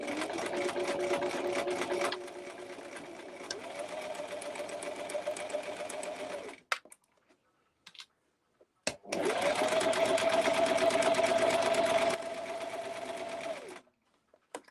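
A sewing machine runs a quarter-inch seam for an over-shoulder bottle carrier, two long steady whirring runs close by separated by a brief quiet pause with small clicks.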